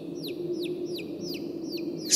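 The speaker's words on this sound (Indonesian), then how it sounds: "suara anak ayam itu terdengar cukup jelas dari kejauhan" Repeated high, downward-sweeping peeps of chicks, about six in a row at a steady pace, over a low background hum.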